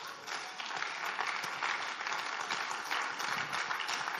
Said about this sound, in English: Come on, if you're clapping, clap now.